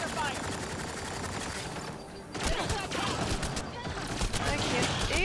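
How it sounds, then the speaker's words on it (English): Rapid bursts of laser weapon fire from a Mass Effect Andromeda firefight, dense and continuous throughout with a louder stretch in the second half, under game sound and occasional voices. "Laser fire."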